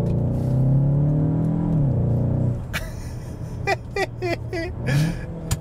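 A Cupra Terramar engine hums and builds steadily in Cupra drive mode, then drops back. Short bursts of talk from inside the car follow over the quieter engine.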